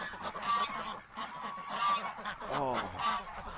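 Canada geese honk repeatedly at close range, a loud overlapping chorus of nasal calls in uneven bursts with faint background noise.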